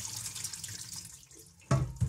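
Rinse water poured off washed buckwheat, a quiet trickling and gurgling that breaks into two brief louder splashes near the end.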